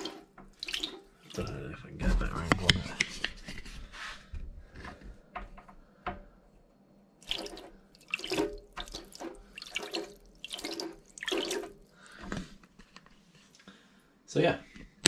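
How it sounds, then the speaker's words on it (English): Water sprays and splashes from straws on a spinning skewer acting as a homemade centrifugal pump, coming in bursts of spatter and trickling under a voice talking intermittently. "See that the water's coming out of the straws there."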